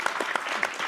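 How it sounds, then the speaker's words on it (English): A live audience at an advocacy talk on antisemitism claps in a short, dense burst of applause, close and steady without voices over it. "Clap for you."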